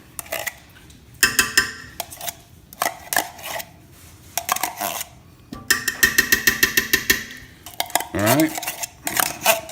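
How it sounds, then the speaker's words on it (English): A metal spoon scrapes and stirs tomato paste in a pot for smoky spicy chili, giving bursts of clinking and scraping with short pauses between them, and a voice speaks briefly. "Stirring it with this spoon here to kind of rinse all the tomato paste off of it."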